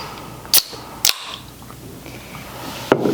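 A can of watermelon lime Culture Pop soda is opened, giving several sharp, close metallic clicks and cracks spaced apart against quiet room noise.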